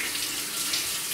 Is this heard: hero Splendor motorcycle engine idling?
no